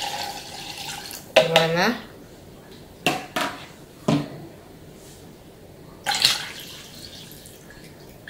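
Water poured from cups into a container while making homemade rice milk, several separate splashing pours with dripping between them, with a short spoken word in between.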